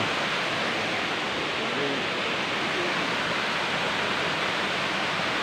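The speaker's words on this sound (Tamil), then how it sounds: "இந்த அருவி தான் மேலேருந்து மலையிலேருந்து வருது." Thalaiyuthu waterfall near Virupatchi pours down from the mountain in a steady, dense roar of rushing water that holds unbroken throughout, with no voices over it.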